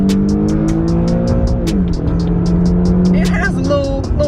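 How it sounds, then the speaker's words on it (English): The V6 in an Infiniti Q50 revs loud and close, its engine tone climbing and then dropping as it settles, with a rapid ticking rhythm above the drone. "Once you rev it up there a little bit, it's decent."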